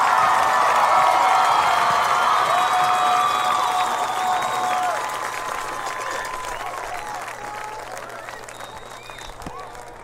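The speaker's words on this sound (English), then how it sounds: "let's give one more round of applause to your state marching band champions, the Dutchtown Sound" Large stadium crowd applauding and cheering for a champion high school marching band at a football playoff game, loud and sustained at first, then gradually thinning and fading over ten seconds with scattered shouts and crowd murmur.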